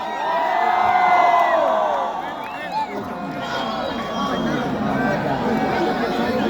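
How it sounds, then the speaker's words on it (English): A large festival crowd at the Falcon Festival 2022 live concert cheers loudly and continuously, with scattered whoops and shouts rising over a dense roar of voices. "A huge round of applause for everyone out here."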